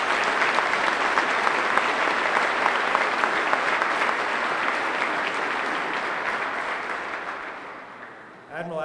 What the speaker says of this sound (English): Let's give these men and women another round of applause for the great work they do.